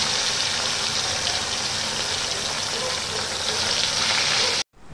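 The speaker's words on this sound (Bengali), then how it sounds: "কড়াইতে তেল গরম হয়ে গেছে, এবার আমি একে একে এর মধ্যে বাটা মাছগুলোকে দিয়ে এপিট করে ভালো করে কাটিয়ে নেব।" Bata fish frying in hot oil in a wok, giving a loud, dense, steady sizzle that runs throughout and stops abruptly at the end.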